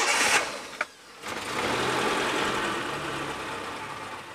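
2003 Suzuki Futura Realvan GX engine cranking briefly, catching, and settling into a steady, smooth idle close by, with a hum that stays level after the start.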